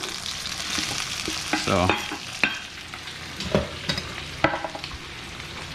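Jalapeno hitting a hot pan for a short rib and shrimp dinner, with broadband sizzling and frying hiss plus a few clattering stirs and knocks; one short word is spoken.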